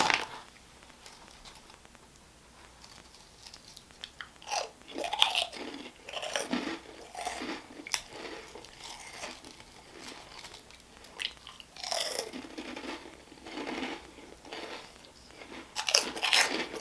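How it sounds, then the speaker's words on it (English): Close-miked crunching as someone chews crunchy Andy Capps onion rings, a run of loud crisp bites and chews in irregular bursts over quiet pauses, with no talking. "we're gonna do like 22 seconds of me ASMR chewing onion rings"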